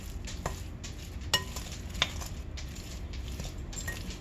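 Blueberries tossed with sugar are stirred in a bowl, giving a soft, steady wet shuffle with a few light spoon clinks against the side, close and quiet with no talking.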